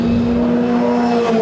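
A Formula Ford 1600 race car passes back markers at the Mondello Park historic festival, a loud, steady engine drone with a slight pitch shift, heard close, no talking.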